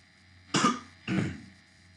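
A man preaching in a church gives two short, close coughs with throat clearing, about half a second apart, against a quiet room.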